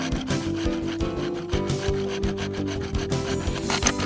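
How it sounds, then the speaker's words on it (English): A bone saw cuts through a skull to remove antlers during wilderness taxidermy, a steady, close back-and-forth rasping of full strokes with no pauses, loud and alone. "Then at various angles, where access allows full draw with a bone saw."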